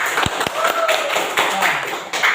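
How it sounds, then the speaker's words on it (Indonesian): Students in a classroom clap briefly, a short patter of hand claps and taps mixed with voices talking over it. "tepuk tangan untuk Fahmi."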